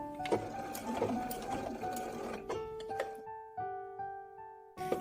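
A sewing machine stitches a fabric coaster in a fast, whirring mechanical run with rhythmic ticks. It then stops, and a few faint clicks and tones are left before a short burst at the end.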